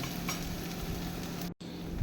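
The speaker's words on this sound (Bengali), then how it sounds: "এখানে পেঁয়াজটা কিন্তু আমি এখানে কুচি করে নিয়েছি, এটাকে একটু ভাজা ভাজা করে নেব" Chopped onion frying in a pan, a steady, close hiss of sizzling oil that cuts out for a split second, then resumes.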